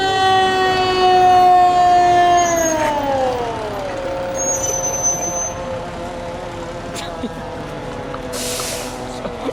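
An airport fire engine (Engine 11) at Toronto Pearson sounds its Q mechanical siren airside, a loud winding wail that peaks and then slowly spins down, with excited talk over it and brief electronic yelps near the end.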